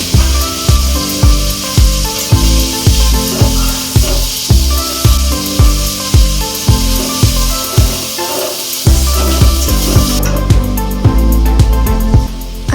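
Chicken sizzles in a home kitchen pan under loud, rhythmic music. A steady hiss of frying sits beneath the beat and grows brighter near the end.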